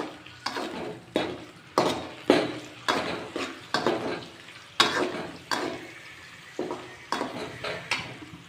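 Curry leaves frying in a hot pan, with a steady sizzle and about a dozen regular scraping stirs of a spoon against the metal, close and fairly loud, with no talk.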